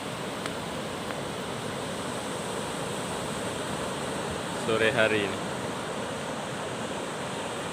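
Surf breaks steadily on the beach at Maudil, Simeulue, in Aceh, a constant washing roar mixed with wind, while a voice speaks briefly over it partway through.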